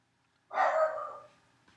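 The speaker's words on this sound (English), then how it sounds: "And the dogs go crazy." A dog barks once, loud and close, the bark trailing off quickly into silence with no talking.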